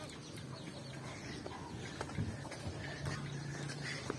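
Chickens cluck at a farm produce market, soft and somewhat distant clucks scattered through a busy ambient background.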